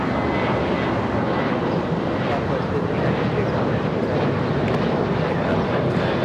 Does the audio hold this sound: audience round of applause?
no